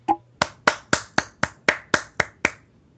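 Nine or so sharp hand claps ring out alone at a steady, even pace, each crisp and close with a short decay before the next.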